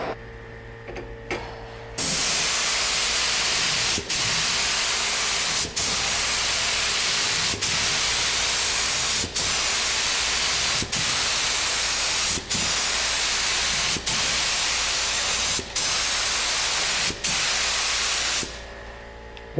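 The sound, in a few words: spray painting a tack coat on a junkyard Cadillac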